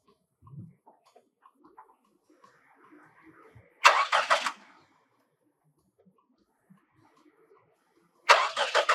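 Car engine being cranked twice in a quiet setting, two short loud bursts of starter and engine noise about four seconds apart, separated by faint scattered background sounds.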